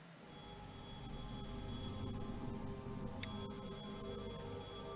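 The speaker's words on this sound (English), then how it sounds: "it's another nightmare with an alarm clock" An alarm clock rings steadily in the video game The Lion's Song, a continuous bright ringing that holds fairly loud and even from start to finish with no talk.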